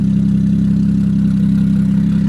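A fully built single-turbo BMW N54 engine idles right after its first start, a loud, close, steady low rumble with an even pulsing throb and no voices.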